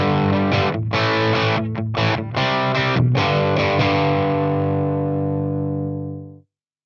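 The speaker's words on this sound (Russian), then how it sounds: "это у нас будет Overdrive. Слушаем." An electric guitar runs through a Boss Katana-100 MkII combo amp with overdrive. It plays sustained distorted chords with a few quick rhythmic cuts, then lets the last chord ring out and stop abruptly, with no talking.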